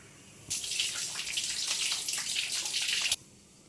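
Tap water runs steadily for about three seconds over peeled raw plantains being washed in a kitchen. The splashing stream starts and stops abruptly, with quiet room tone on either side.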